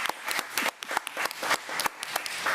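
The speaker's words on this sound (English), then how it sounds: "let's give Sky a round of applause." A small group claps at a school board meeting for a first-grade student, giving a brief, thin round of scattered hand claps that sounds modest and slightly distant.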